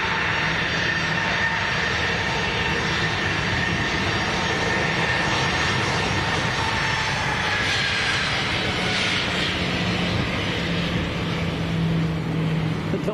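An aircraft taxiing at Leeds Bradford Airport, its engines giving a steady, fairly loud broadband roar with a whining tone that swells slightly partway through, heard from nearby outdoors without talk.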